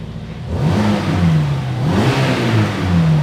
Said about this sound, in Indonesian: Coba kita dengerin suara gas-gasannya ya.